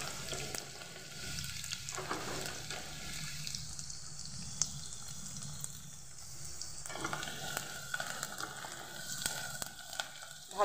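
Chopped onion with bay leaf frying in hot oil in a wok, a steady moderate sizzle with a gentle stirring scrape running throughout, with no talking.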